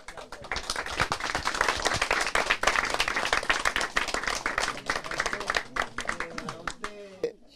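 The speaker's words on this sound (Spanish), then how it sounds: "Para ello pido un fuerte voto de aplauso." Applause from a crowd at a community gathering with Peru's president, a dense burst of clapping that fills most of the stretch, with voices talking over it and dying down near the end.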